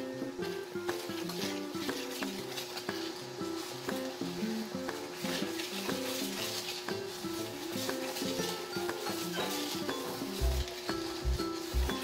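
Ingredients including margarine and water being stirred together in a pan, a soft continuous scraping and sizzling with rhythmic rubbing strokes, fairly quiet and steady with no talk.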